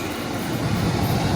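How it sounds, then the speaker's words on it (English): A passenger train bound for Liverpool Lime Street pulls into a station platform, a steady, close broadband rumble that swells slightly as it nears, with no talk. "There's one coming in this side as well for Liverpool Lime Street."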